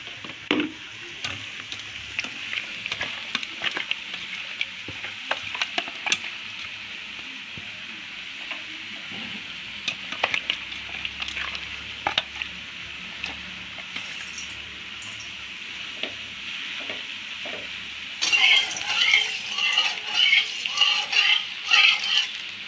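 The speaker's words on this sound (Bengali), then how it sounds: "মাছটা হালকা করে ভেজে নেব।" Fish lightly frying in a pan, with a continuous mid-level sizzle, scattered crackles and pops, and a louder spitting burst of crackling near the end.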